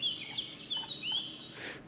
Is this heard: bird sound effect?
yes